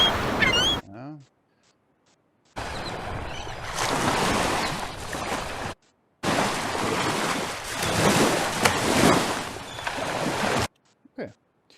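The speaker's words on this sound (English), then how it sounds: "So I have these two ocean sounds." Ocean waves wash in broad, hissing surges heard in separate chunks, with silent gaps between them and short bits of talk at the start and end, as used in a sound design workshop.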